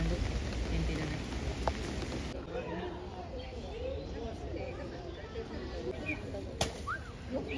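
Steady rain patters down in a continuous wash, with faint bird calls and speech-like sounds blended into the background.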